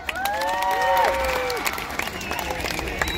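At a magic show during the 2022 Bekal beach festival, a crowd breaks into scattered clapping and cheering, with a few raised voices and whistle-like calls over a dense patter of hands.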